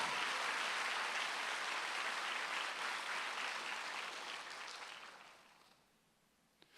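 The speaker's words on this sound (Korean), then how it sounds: "박수 세게 치시라요 진짜." Sustained, dense applause from a church congregation at a Sunday worship service in Incheon, Korea, steady and full before fading away toward the end, with a faint sound right at the close.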